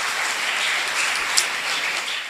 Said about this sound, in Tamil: அவர் பேசும்போது உங்களுடைய கரகோஷங்களை நீங்க நல்லா கொடுக்கணும்